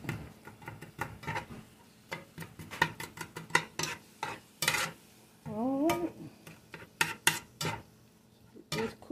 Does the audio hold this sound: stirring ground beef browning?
yes